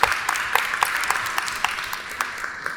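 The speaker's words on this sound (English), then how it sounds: "Please give a round of applause to Taiwo." Audience applause for a speaker at a healthcare talk, a steady patter of many hands clapping with a few sharper individual claps standing out, moderately loud and continuous throughout.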